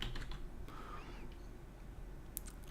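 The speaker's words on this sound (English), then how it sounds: "Let's just type something in here." Faint, quick keystrokes on a computer keyboard, a short burst of soft clicking tapping over a quiet room hum.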